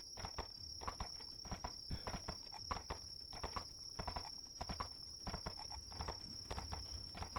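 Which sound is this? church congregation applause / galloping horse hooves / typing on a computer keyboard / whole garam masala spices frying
galloping horse hooves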